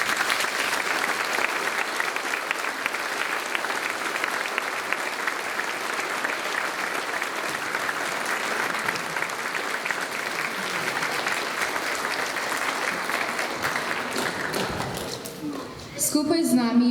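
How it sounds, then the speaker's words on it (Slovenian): Sustained, dense audience applause fills a school closing ceremony hall at a steady level, fading slightly near the end before a brief burst of other sound. "Prosim še za en velik aplavz za vse naše letošnje uspehe"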